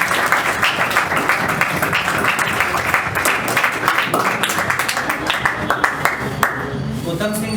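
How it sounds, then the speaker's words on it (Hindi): Applause for Uttam Singh, selected as an Agniveer tradesman, at a New Morning Classes celebration: dense, steady clapping from a crowd runs throughout, loud and continuous, with voices mixed in. "उत्तम सिंह के लिए ताली हो जाए।"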